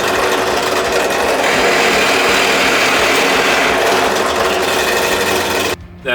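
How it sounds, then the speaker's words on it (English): A loud, continuous whirring buzz of a power drill boring into wood, steady for several seconds before cutting off abruptly near the end. "just drilling in the depth of the drill bit"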